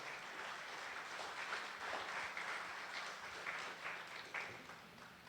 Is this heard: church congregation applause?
yes